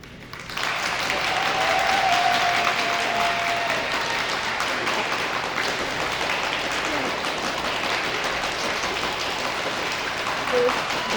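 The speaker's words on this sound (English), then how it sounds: "give them your loudest round of applause" A graduation audience at a commencement ceremony breaks into loud, sustained applause that starts abruptly and holds as a dense wash of clapping for about ten seconds, with a few faint cheers mixed in.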